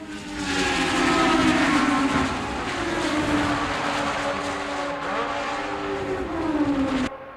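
Several race cars roar around Daytona in the NASCAR Racing 2003 video game, their engines a steady, loud, close drone with pitch rising and falling as they pass, continuous for about seven seconds with no talk.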